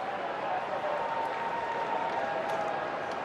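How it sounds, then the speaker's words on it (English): Stadium crowd at a Phillies–Cubs baseball game gives a steady, moderate round of applause as a batter steps in, a broad continuous wash of clapping and crowd murmur with a faint tonal hum underneath. "a nice round of applause for Kyle Schwarber as he"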